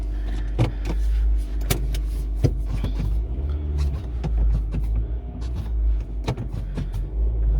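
A Mazda Demio is handled on a car transport in New Zealand: a steady low engine rumble runs throughout, overlaid with scattered clicks, clunks and mechanical knocks close by.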